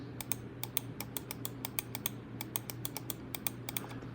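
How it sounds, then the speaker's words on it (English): Corsair Sabre V2 Pro computer mouse clicked repeatedly in a steady run of sharp, crisp clicks, roughly three or four per second, close up and alone over a faint low hum. "the clicks are actually fairly quiet, not super silent, but they're fairly quiet. Here's a click test."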